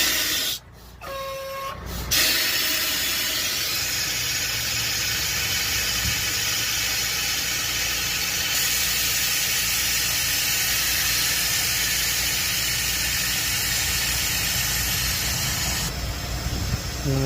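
Air hisses out steadily for a long stretch as the suspension of a damaged truck's trailer lowers, a loud, broad rush after a brief clunk at the start.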